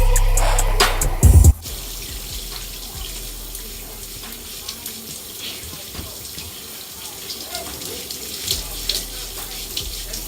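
Steady running water from a tap streams through a pre-wash of short hair, a loud burst of handling noise at the start, then a continuous even flow with faint knocks and splashes.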